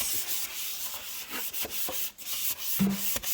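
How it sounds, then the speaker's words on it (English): A Scrub Daddy sponge with Barkeeper's Friend scrubs a kitchen sink with quick, rhythmic, gritty back-and-forth strokes, heard up close with no talk. "you'll just take Barkeeper's Friend and Scrub Daddy and rub it in"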